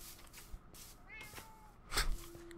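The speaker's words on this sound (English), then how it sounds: "it's a Siamese cat." A Siamese cat in Minecraft gives a faint short meow, followed by a louder, sharper mew near the end, with quiet game sounds in the background.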